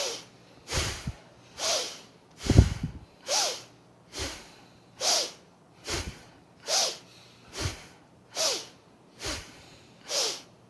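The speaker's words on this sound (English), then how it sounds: "inhale" Deep, forceful breaths during a breathing exercise come as about ten evenly spaced rushing pulses, each a close, loud breath of air, with a few low thumps under some of them.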